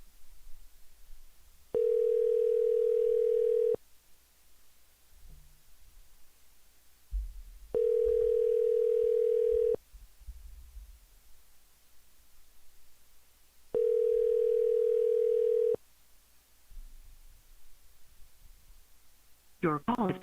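A telephone ringback tone sounds three times in steady two-second bursts, evenly spaced with quiet gaps between them, as a call is placed.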